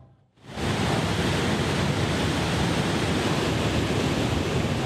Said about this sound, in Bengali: উত্তাল সাগর, বৃষ্টির সঙ্গে বইছে তীব্র ঝড়ো হাওয়া, ধেয়ে আসছে সাইক্লোন চিত্রাং